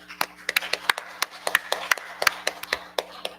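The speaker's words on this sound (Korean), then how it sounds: "일어서시면 박수로 환영하겠습니다." Sparse clapping from a small church congregation during a Sunday service welcome, distinct individual claps at an uneven rhythm, fairly close and light, with a faint low hum underneath.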